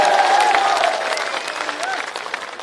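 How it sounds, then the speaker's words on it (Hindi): Audience applause at a Hindi comedy poetry gathering, loud and close at first, then easing slightly while continuing as a dense wash of clapping. "तालियां और बजा दीजिए।"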